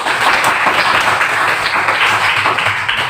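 A class of students claps for a classmate in a classroom, a brief, loud burst of dense, steady applause filling the whole moment.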